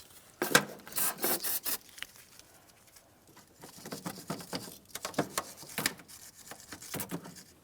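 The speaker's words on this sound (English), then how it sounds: "You can use some parts cleaner and a wire brush." Wire brush scrubbing rust off a power steering line fitting on a GMC Sierra 2500 HD, rapid scratchy strokes in irregular bursts, close and fairly faint.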